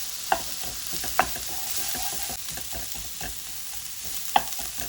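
Sliced onion stir-fried with chicken noodles in a hot pan: a steady close sizzle broken by repeated utensil scrapes and three sharp clinks against the pan, with no voices.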